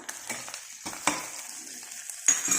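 Spices, pepper and coriander powder, ginger-garlic paste, garam masala and chili powder stirred and fried in a pan for a fish egg curry: soft sizzling with intermittent scraping stirs, fairly quiet and close, no talking.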